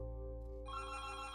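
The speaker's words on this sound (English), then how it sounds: "I will lose my shit if this telephone rings again." An electronic telephone bell starts ringing partway through, a steady bright trill over a low background hum.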